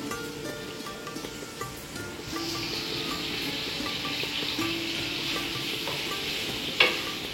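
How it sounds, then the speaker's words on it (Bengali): Garlic and dried chillies fry in hot oil for a chicken korma, giving a soft, steady sizzle that swells partway through, with a sharp clink near the end. "সেই সাথে রসুন, আমি যেটা করবো শুকনো মরিচ দিয়ে দিচ্ছি।"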